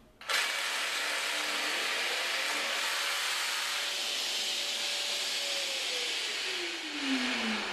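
A Festool PSB 420 EBQ pendulum jigsaw runs steadily with a loud, continuous motor whine while cutting laminate, its pitch sliding slowly down toward the end of the cut.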